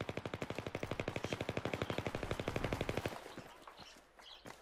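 Rapid automatic gunfire from the video game Battlefield 3 rattles off in a fast, even burst of about three seconds, then cuts out, leaving faint scattered game noise behind.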